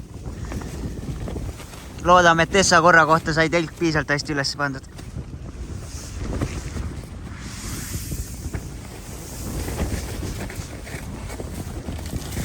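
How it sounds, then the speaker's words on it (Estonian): Strong wind gusts at a winter tent camp in Lapland at -26°C, a steady broadband roar of wind buffeting the microphone that continues under and after a stretch of close talk. "vaadake, kui ränk tuul on."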